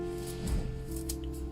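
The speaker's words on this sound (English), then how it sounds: "I have these really cool herb scissors" Herb scissors snip through fresh herbs such as thyme in a kitchen, giving a few soft, close crunching cuts over a steady low hum.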